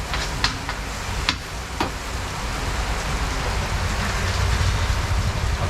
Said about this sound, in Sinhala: වහිනවා මාර විදියට